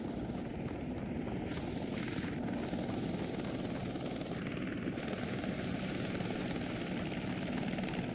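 Helicopter in the video game WARDOGS, a steady rotor and engine drone with dense beating texture, constant and unbroken from start to finish, fairly faint overall.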